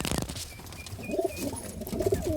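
Racing pigeons coo repeatedly inside a breeding cage, soft low throaty calls at close range, joined by light rustling, high chirps and cage noise, with no voices.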